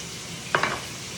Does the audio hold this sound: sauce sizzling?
yes